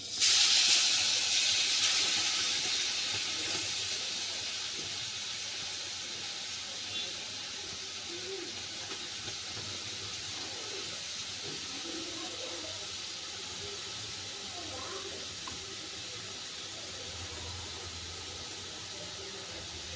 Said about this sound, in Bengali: গাজরগুলোকে আমি আস্তে আস্তে ছেড়ে দেবো কড়াইতে